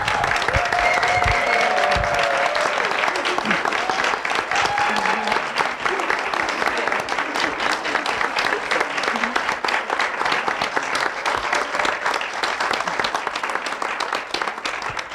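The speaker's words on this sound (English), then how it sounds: "could we please give them another round of applause?" An audience at a school district graduation ceremony applauds the graduates, with dense, sustained clapping that carries on steadily for about fifteen seconds, a few faint crowd voices mixed in.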